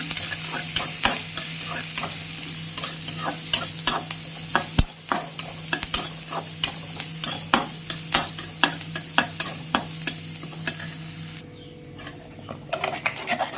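Onions sauté in oil in a pan for a Tamil meen kulambu fish curry, a steady sizzle running under a regular series of sharp spatula scrapes and taps, close and fairly loud, with no talking.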